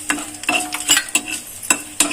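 Urad dal roasting in a pan is stirred in quick scraping strokes, about five sharp bursts of rattling grains over a soft steady sizzle, close and clear with no talking.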